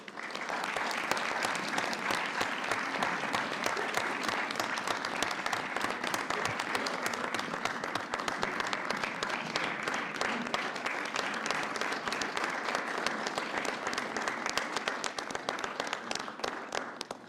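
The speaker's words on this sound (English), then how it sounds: "Let's give these people a big round of applause." Audience at a city council meeting breaks into steady, dense applause from many hands, loud and sustained throughout with no pause.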